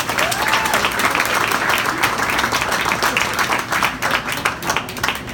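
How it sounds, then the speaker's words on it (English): A gala audience gives a warm round of applause, dense overlapping clapping at a steady, fairly loud level throughout. "Let's give a nice warm welcome and round of applause to Michael over here"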